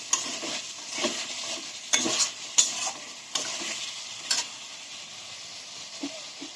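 Spices and spice water are stirred and sautéed in a pan, with a soft sizzle under a series of spoon scrapes and taps against the pan, close by and with no talking.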